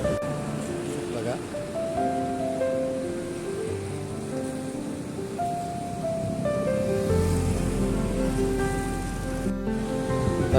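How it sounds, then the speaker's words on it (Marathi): The flooded Godavari river in Nashik rushes past after heavy monsoon rain, making a loud, continuous roar of churning water that grows heavier toward the end. "पाणी किती जोरात वाहत आहे."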